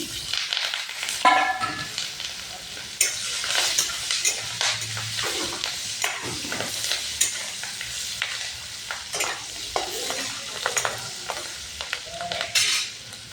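Chopped onion and green chili fry in oil in a pan, giving a steady sizzle that runs through the whole stretch, broken up by frequent scraping stirs of a spatula against the metal.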